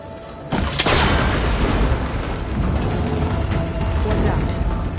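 A cable connector in Horizon Forbidden West is shot and breaks apart, a sharp crack opening into a loud mechanical clatter and crumbling boom that rumbles on for several seconds, with a faint voice underneath.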